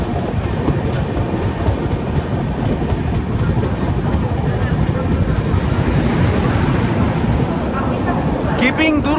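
Howrah Mumbai AC Duronto Express passing Durg Junction railway station at night in monsoon, a loud continuous rumble with rapid rail clatter throughout, close and steady.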